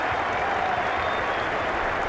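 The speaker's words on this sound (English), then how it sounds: "to applaud Brian Bennett, who finally walks off" Cricket crowd at Trent Bridge during an England versus Zimbabwe Test applauds steadily, a dense continuous wash of clapping from a large stadium audience on its feet.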